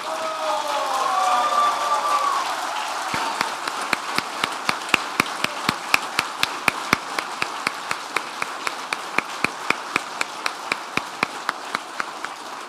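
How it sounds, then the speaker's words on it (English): At a military retirement ceremony, an audience claps for the retirees in steady, rhythmic applause that starts after a brief murmur. The sound is moderately loud and sustained, with a distant, echoing room quality. "please stand and join me in a round of applause for all our retirees and their"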